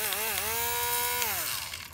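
A Knot Out electric dog grooming comb runs close by with a harsh, steady motorized buzz, its pitch wavering slightly as it works, like a small chainsaw.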